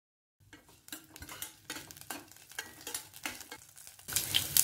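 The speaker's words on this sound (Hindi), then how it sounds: "2 हरी मिर्चें बीच से कट करके डालेंगे, थोड़ी सी करी लीव्स, 1 छोटा चम्मच काली सरसों और 1 छोटा चम्मच बनारसी राई" Green chilies, curry leaves and mustard seeds hit hot oil in a pan for a vermicelli upma, giving a steady close crackling sizzle with stirring clinks, growing louder and more spattering near the end.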